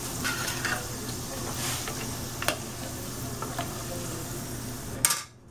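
Potatoes sizzle and fry in a pan with a steady crackling hiss, close up, with occasional light clinks of a utensil before the sound cuts off abruptly.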